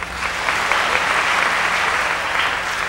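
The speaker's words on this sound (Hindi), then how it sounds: "तालियां मत बजाओ" An audience at a spiritual discourse bursts into sustained applause, dense and loud, many hands clapping steadily without pause for the whole stretch.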